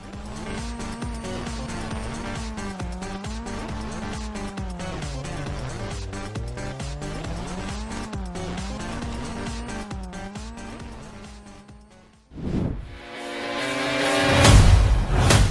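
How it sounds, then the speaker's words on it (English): A car in the mobile racing video game OWRC Open World Racing drones with a steady engine note that rises and falls through gear changes for a long stretch, then ends in a sharp tire squeal. "Owrc Open World Racing is a frantic racing game for mobile."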